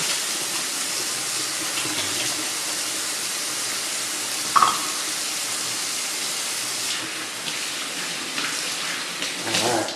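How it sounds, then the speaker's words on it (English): Hands being washed with homemade soap under a running tap, a steady broadband water rush flowing continuously with a brief clink midway and slight shifts in the stream near the end. "give me a second while I wash my hands"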